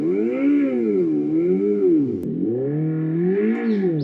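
Artificial engine sound from a Revolt RV400 electric motorcycle, a synthetic motor tone rising and falling in smooth waves for several seconds, loud and close with no talk.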